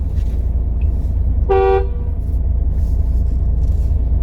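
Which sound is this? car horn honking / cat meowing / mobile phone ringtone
car horn honking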